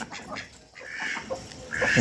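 Ducks kept at a rural home make short nasal quacks, a louder call rising near the end over faint background noise.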